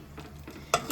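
Spices for sambar tempering in a hot pan, a steady low frying hiss with stirring scrapes, then a sudden louder sizzling burst near the end.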